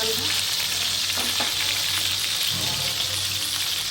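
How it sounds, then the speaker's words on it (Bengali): Chicken skin fries in hot oil while cooking potato chicken bhuna, a loud, close, continuous sizzle with occasional stirring clinks and bubbling, no voices. "মুরগির যে চামড়াটা, এটাও আমি ভাজি করে নিচ্ছি।"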